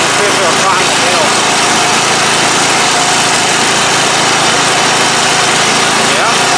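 An MTD Yard Man riding mower with a 14.5 hp Briggs & Stratton engine runs close and loud, a steady droning engine roar throughout with no letup.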